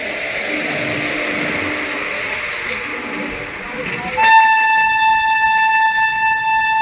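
Swaraj Express train rolling through Kurukshetra Junction: steady rumbling train noise with some indistinct voices, then a loud, sustained horn blast enters partway and holds to the end.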